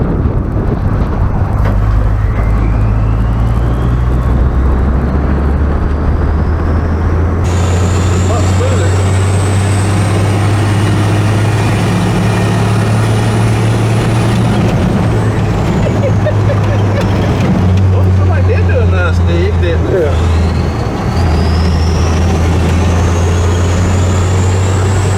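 A heavy six-cylinder truck engine runs steadily at close range with a deep, constant drone, while a rising whine and some rumbling shifts come and go over it.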